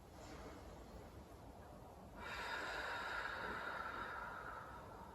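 A person exhales audibly during a Pilates exercise at home, a faint airy breath that swells into a longer, louder outward hiss over a quiet room.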